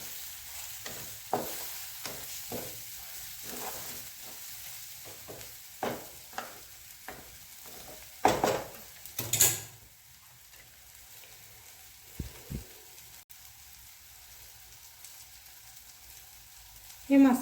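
Bitter gourd sabzi cooked in a little oil, with homemade spice mix added, sizzles softly in the pan while a spoon stirs it in intermittent scraping bursts, some louder clatters near the end.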